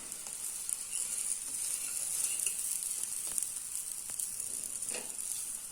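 A green pea paratha roasts on a hot griddle after being flipped: a soft, continuous sizzle with faint scattered crackles, close by and without any talking.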